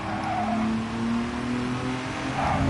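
Race cars in Gran Turismo 7 sustain a steady engine drone with faint tire squeal, loud and continuous throughout, with no talking over it.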